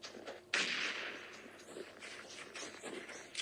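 Grenades bursting during a late-circle squad fight in the mobile battle-royale shooter PUBG Mobile: a sharp, loud blast near the half-second mark, then a rumbling tail and scattered smaller pops and thuds across a few seconds.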